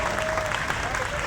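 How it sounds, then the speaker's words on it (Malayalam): Audience at a Pariyapuram fest event clapping, a brief dense burst of applause from a crowd, steady and fairly loud, with a voice faintly audible over it. "നല്ല രീതിക്ക് ഒരുപാട് കയ്യടികൾ പ്രതീക്ഷിക്കുന്നുണ്ട് കേട്ടോ"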